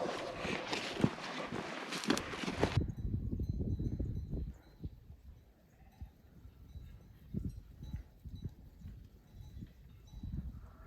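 Rhythmic clip-clop of a ridden horse's hooves passes at a moderate distance outdoors in Colorado elk country, with rustling and a burst of noise at the start, then quieter hoofbeats continuing.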